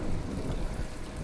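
Heavy rain pours steadily in the game From the Depths, with deep rumbling thunder rolling beneath the dense hiss. No one speaks.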